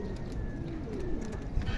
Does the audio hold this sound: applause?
no